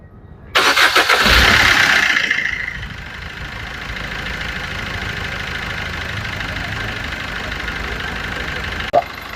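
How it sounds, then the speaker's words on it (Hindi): A Maruti Suzuki Brezza diesel engine, just back from a major service, cranks briefly, catches with a loud rise, then settles into a steady, even idle close by. A sharp click lands near the end. "अभी गाड़ी स्टार्ट हो गई"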